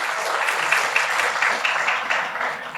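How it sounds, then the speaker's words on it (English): An audience at a cybersecurity and careers panel discussion applauds steadily, dense clapping that holds at an even level from start to finish with no voices over it. "Please keep the applause coming."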